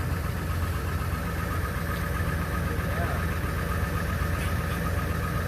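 A 1999 Ford F350 with a 7.3 diesel idles just after a cold start at about -7°C, running rough and not yet firing on all cylinders. The engine gives a steady, dense rumble and clatter throughout.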